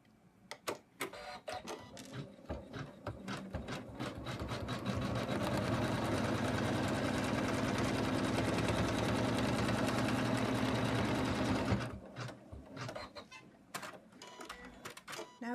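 An embroidery machine stitches a snowman Christmas stocking, starting with quick separate needle taps, then running in a steady rapid mechanical chatter for several seconds before slowing back to scattered taps.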